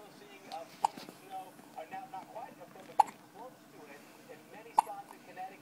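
A newly fed baby hiccups three times, each a sharp, close little jolt spaced a couple of seconds apart, with soft adult murmuring in the background.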